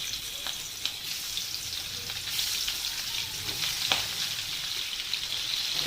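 Fish sizzling and frying in hot mustard oil over lowered heat, a steady close crackling hiss with occasional sharper pops, continuous throughout with no talk.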